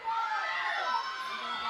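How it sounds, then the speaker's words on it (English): Crowd at a preteen ninja obstacle competition yelling and cheering steadily, a dense wash of high, children's voices filling the space throughout. "The crowd is yelling."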